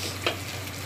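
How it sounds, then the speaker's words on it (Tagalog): Meat sautés in hot oil for pinakbet, a steady close sizzle with a brief stirring scrape, heard alone. "Igisa muna yung karne"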